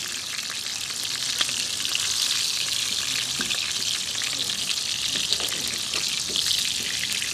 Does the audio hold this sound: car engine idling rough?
no